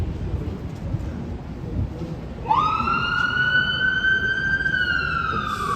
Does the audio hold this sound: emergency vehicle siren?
yes